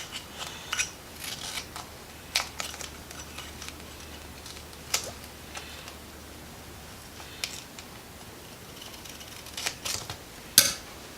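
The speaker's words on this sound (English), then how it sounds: "Little pair of Fisker scissors work very nicely." Small Fiskars scissors snip tape repeatedly in short, crisp bursts, a few quick cuts spaced out with quiet pauses in between, close up and fairly quiet.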